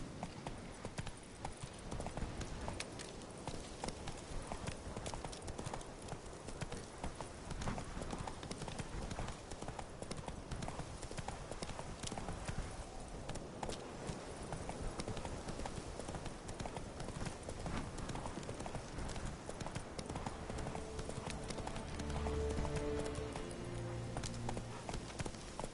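Hooves of a horse galloping in the video game The Witcher 3, a steady, rapid clip-clop rhythm that runs loud and continuous throughout, with a faint whinny near the end.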